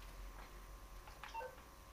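A mobile phone in use inside GTA Online, with quiet game-interface tones and a short beep-like blip sounding near the middle against a faint steady background hum.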